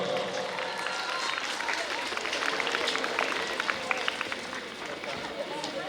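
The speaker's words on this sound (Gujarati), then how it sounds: "બધા તાળીઓથી વધાવશું આપણે." A crowd at a school Republic Day function claps steadily, a busy rattle of many hands that runs continuously at moderate loudness throughout, with voices mixed into the background.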